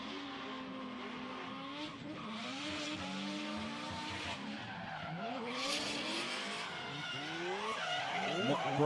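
Drift cars at a competition, a 13B rotary RX-7 battling an LS V8-powered car, with screaming engines and squealing, skidding tyres building steadily louder, overlaid by a commentator talking throughout.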